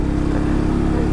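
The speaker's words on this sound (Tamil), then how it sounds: "ஆப்போசிட்ல வண்டி வருது." Continuous close engine drone from a TVS 50 moped ridden at night on the Kolli Hills road as an oncoming vehicle approaches, a steady loud hum filling the whole moment.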